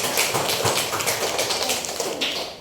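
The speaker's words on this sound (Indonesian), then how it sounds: "Beri aplaus untuk kelompok mawar." A classroom of students claps for a student group, giving a dense, steady patter of applause close by for a few seconds, with no talking over it.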